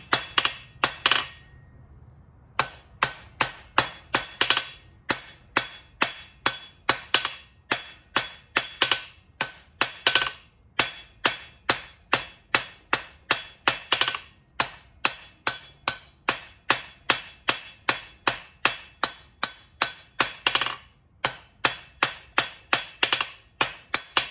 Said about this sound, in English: I'm hammer polishing and making sure that I get a clean transition.